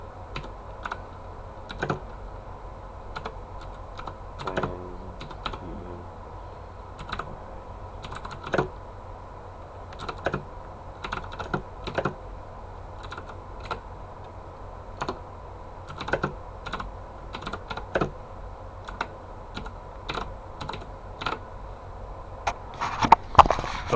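Typing on a Razer BlackWidow Ultimate mechanical keyboard: close, crisp clacking keystrokes in uneven bursts and short runs with brief pauses, continuing for the whole stretch without any voice.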